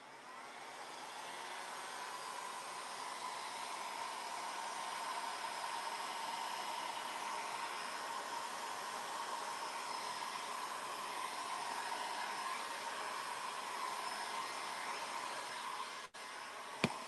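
Hair dryer blowing on a damp craft project, a faint continuous whooshing hum that holds steady for the whole stretch before a brief click at the end.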